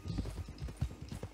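Horse hooves clip-clop in the Red Dead Redemption 2 game, a quick soft rhythmic trotting beat of muffled thuds over low background ambience.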